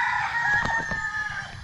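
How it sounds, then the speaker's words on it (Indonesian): A rooster crows once, a drawn-out call heard at a moderate distance over steady outdoor background noise, near Jeram Tekoh and Gunung Tahan, Malaysia. "Dengar bunyi ayam, banyak bunyi ayam."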